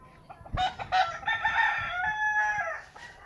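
A rooster crows nearby, a long drawn-out call, with hens clucking softly around it.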